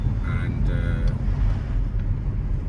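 A Jaguar XKR X150 rolls slowly over speed humps with its ground clearance restored, a steady low engine and road rumble running throughout, with faint brief tonal touches above.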